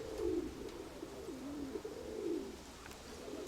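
Pigeons coo in low, rolling calls, with steady rhythmic coos repeating close by in a quiet setting.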